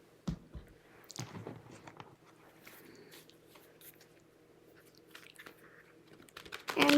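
A deck of tarot cards being shuffled at close range, with soft, irregular riffling and scraping bursts, a couple of sharper snaps near the start, and a louder rustle at the end.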